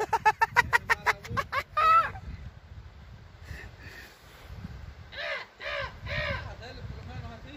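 A voice imitates a crow's harsh caws out on a fishing trip, first a rapid run of clipped calls, then after a pause a few slower drawn-out caws over low background noise.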